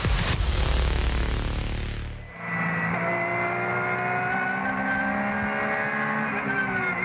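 A racing car at the Nürburgring Nordschleife climbs the hill out of Breitscheid on an in-lap, with a loud, sustained engine note that swells in a roar at first, dips briefly, then settles into a steady close-up drone.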